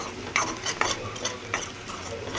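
A spoon stirs a masala mixture in a hot pan for egg fry, making a close, loud run of scraping strokes over a soft sizzle, with no one talking.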